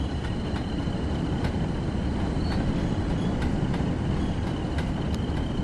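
A Class 20 diesel locomotive hauling limestone wagons in Train Sim World 2 rumbles along steadily, with a constant dense low-frequency drone and faint periodic clicks of wheels over rail joints.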